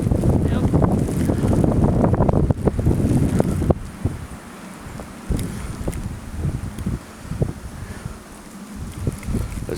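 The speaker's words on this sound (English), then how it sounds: "Look at how the wind's blowing." Strong wind blowing outdoors during a blizzard, roaring and buffeting the microphone in heavy gusts, loudest at first and then easing into gustier bursts with rustling, and people talking now and then.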